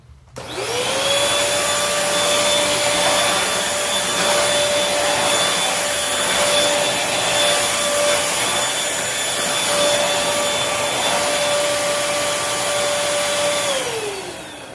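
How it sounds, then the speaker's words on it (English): A Bissell Featherweight stick vacuum whines steadily at close range for about fourteen seconds, spinning up at the start and winding down at the end, with faint crunching as cracker crumbs are sucked in. "I'll go ahead and vacuum those now."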